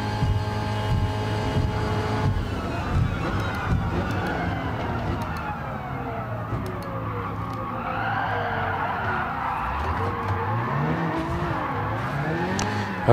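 Race car in Gran Turismo Sport braking hard, tyres squealing and skidding with a wavering pitch over a steady engine drone, loud and continuous throughout, no voices.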